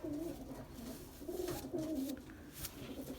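Racing pigeons coo in soft, low repeated rolling calls, fairly close and faint, with light rustling and background noise around them.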